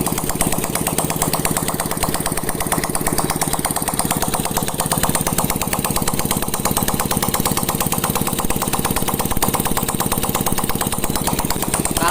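A Yamaha Vega R motorcycle engine, freshly fitted with a new piston, idles steadily and loudly close by with an even, rapid putter and no variation for the whole stretch.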